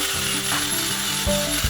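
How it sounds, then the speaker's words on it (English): A rotating sanding wheel worked against wood: a steady mechanical whirring with a ratchety, geared tone that shifts slightly in pitch, close and fairly loud. "The sanding begins."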